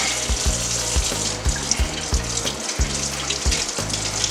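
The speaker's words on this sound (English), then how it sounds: "Rinse that thigh off." Tap water running steadily over a raw chicken thigh in a kitchen sink, a continuous splashing hiss with a faint low pulsing throughout.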